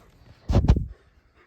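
Dogs sniff at a large new cat tunnel bed, giving two quick, close snuffling bursts in the middle of an otherwise quiet moment.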